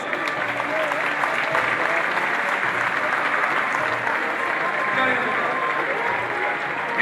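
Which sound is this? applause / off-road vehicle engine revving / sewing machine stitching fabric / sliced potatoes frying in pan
applause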